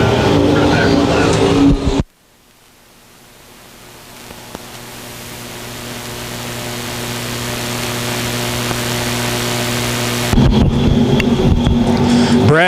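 Dirt track race cars in a USRA Nationals heat race at Lakeside Speedway, with loud engine roar at the start and end and a quieter, building stretch between, along with an announcer's voice.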